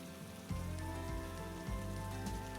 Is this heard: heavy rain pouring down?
yes